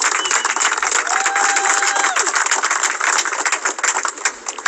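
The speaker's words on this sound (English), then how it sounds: "give him a round of applause" A crowd applauds the family of Breonna Taylor, including her mother Tamika Palmer and a relative from Michigan, with steady, dense clapping that tapers slightly near the end.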